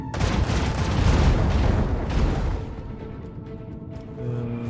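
A salvo of starship cannons in Warhammer 40k: Rogue Trader booms loudly in a dense, rumbling barrage for over two seconds, then fades into a quieter tonal hum and a faint final swell.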